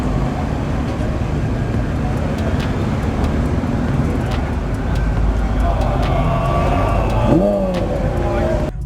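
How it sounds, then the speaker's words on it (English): A manual car's engine stalls after being brought to a stop while still in gear. A steady close rumble runs under a speaking voice, roughens briefly, then cuts off abruptly at the end. "But you'll stall. The car will basically shut off."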